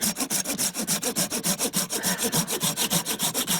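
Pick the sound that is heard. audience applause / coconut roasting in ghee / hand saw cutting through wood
hand saw cutting through wood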